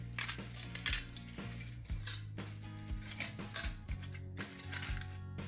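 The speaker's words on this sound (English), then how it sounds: "take a regular muffin tray and place a small foil baking cup into each section" Small foil baking cups dropped and pressed into the sections of a metal muffin tray, a series of light metallic clinks and crinkly taps at an uneven pace, close and quiet.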